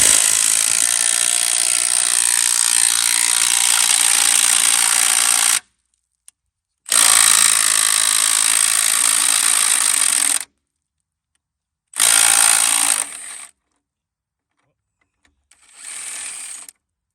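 A cordless battery impact wrench works on a rear end bolt on a 1974-78 Ford Mustang II. Three loud sustained bursts of buzzing hammering are separated by silence, then a shorter, quieter final burst.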